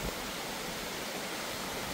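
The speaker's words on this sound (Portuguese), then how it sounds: "Aqui na cachoeira agora, gente." A waterfall at a rural property roars with a steady, dense broadband rush of falling water, constant and fairly distant, with no talking.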